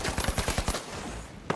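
AKM assault rifle fired in automatic bursts in The Finals, an online shooter: a rapid string of about eight close, punchy shots, then a short pause and one more shot.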